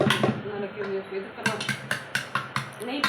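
Metal utensil mashing cooked onions and capsicum in a pot for roadside-stall style sambar, with a run of sharp, rhythmic clanks and taps after a spoken stretch, close and moderately loud.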